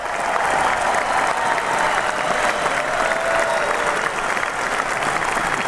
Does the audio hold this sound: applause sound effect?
yes